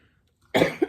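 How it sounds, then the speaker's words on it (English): A single close, harsh cough bursts out after near silence, followed by a second quick cough, both loud and abrupt. "Did good so far with my coughing."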